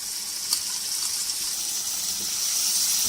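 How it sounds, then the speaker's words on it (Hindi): A cup of yogurt goes into a pan of egg and potato korma, giving a steady, bright hissing gush that carries on evenly throughout. "ये 1 कप दही जाएगा व्यूवर्स इसमें"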